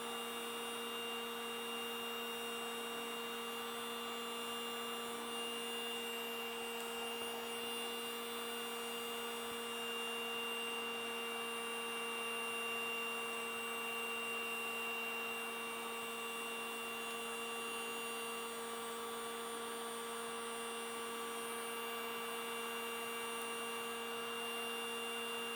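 A DeWalt DCE530 20V cordless heat gun blows steadily while heating PEX pipe, a quiet, even electric whir with a constant tonal hum and no talking.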